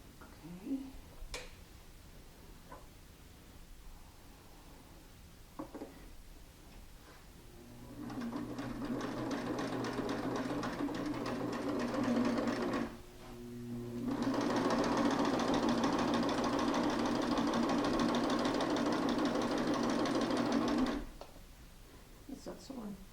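A sewing machine runs while stitching Jeep seat covers for a Willys CJ-2A restoration, a steady mechanical hum lasting several seconds, pausing briefly, then running again louder, with scattered clicks and handling noises around it.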